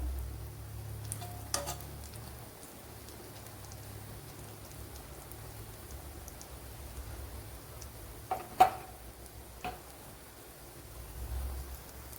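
Egg banana toast fries quietly in a pan with a faint, soft sizzle throughout, broken by a few light clinks and scrapes from turning it.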